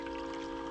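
Hot coffee poured into a cup at a small gathering, a steady continuous liquid stream running close and clear for the whole moment with no talk over it.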